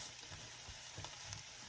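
Fried rice sizzles in a large skillet, a steady close hiss of frying with faint scraping and stirring bumps through the short stretch.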